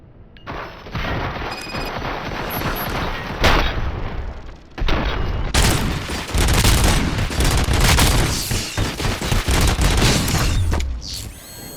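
Weapon fire and impacts in the video game Robocop: Rogue City come as dense bursts of shots, booms and mechanical clanks, loud and continuous over several seconds with brief lulls between volleys.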